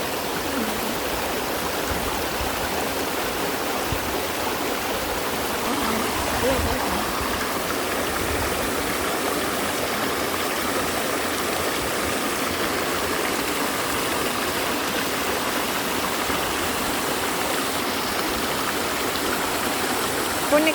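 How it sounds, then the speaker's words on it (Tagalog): Yellow Dragon River in Hong Kong flows in a constant, dense rush of water, close and loud, with crickets blended into the steady hiss and no talking. "Crickets plus alon ng tubig, di ba ang ganda?"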